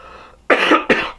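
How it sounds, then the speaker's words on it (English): Two close, harsh coughs from a person recovering from a cold, the second shorter than the first, loud and near after a brief quiet moment. "Sorry, I had to cough."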